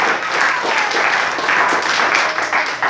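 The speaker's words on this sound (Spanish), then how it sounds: "Denle un aplauso fuerte a Jesús, al Señor." A church congregation in a Spanish-language service gives loud, sustained applause, a thick even wash of clapping that fills the room without a break.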